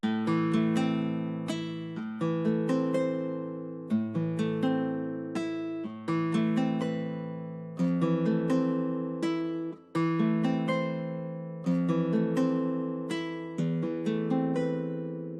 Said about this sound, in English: this is how the Admiral guitar is sounding like